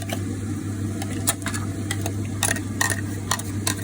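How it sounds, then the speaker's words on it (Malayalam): A ground paste of garlic, ginger, green chilli and coriander leaves goes into chicken cooking for a green curry, giving a close, constant sizzle with a low steady hum behind and repeated scraping stirs. "നമ്മൾ ബ്ലെൻഡ് ചെയ്ത് വെച്ച മസാല ഉണ്ടല്ലോ, നമ്മളുടെ വെളുത്തുള്ളി, ഇഞ്ചി, ഗ്രീൻ ചില്ലി, പിന്നെ കൊറിയാണ്ടർ ലീഫ്, അത് അരച്ചെടുത്തത് ഫുള്ള് ആ മസാല ഇതിലിടും."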